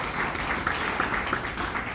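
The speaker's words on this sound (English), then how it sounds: "let's give them a warm round of applause" Applause fills the room at a marathon press conference, a dense, steady patter of many hands at moderate distance that holds without a break.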